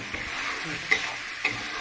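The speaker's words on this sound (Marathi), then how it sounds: "आणि आता टाकलाय कांदा भाजायला ग्रेव्ही करून." Onion fries in a pan for a gravy, a soft continuous sizzle stirred close by, with two brief scraping knocks of the spatula.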